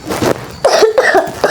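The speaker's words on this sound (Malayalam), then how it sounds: "എനിക്ക് ചുമക്കുണ്ട്" A person coughs several times in quick succession, close and fairly loud, with short rough bursts and small gaps between them, heard against a faint background while a horror game is being played.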